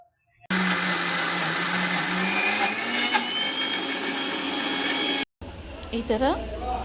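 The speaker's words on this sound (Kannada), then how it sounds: "ಈಗ ಇದನ್ನ ಮಿಕ್ಸಿ ಮಾಡ್ಕೋತೀವಿ" A mixer grinder grinding soaked lentils whirs loudly and steadily for several seconds, then stops abruptly; a voice is briefly heard afterward.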